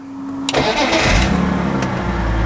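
A BMW 330Ci with 149,000 miles cranks briefly and catches, then settles into a steady, smooth idle close by, with a faint click near the end.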